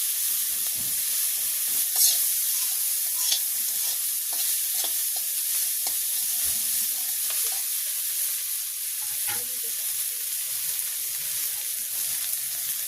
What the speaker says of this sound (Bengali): মাছের তেলে মাছ ভাজি